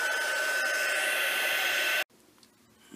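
A hair dryer blows steadily at close range, drying acrylic paint, with a loud, even whoosh that cuts off abruptly and leaves a quiet room.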